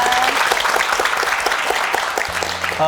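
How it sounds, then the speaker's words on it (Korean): Steady applause from a crowd, dense clapping throughout with a brief musical tone near the end. "우리 격려의 박수 좀 보내드리죠"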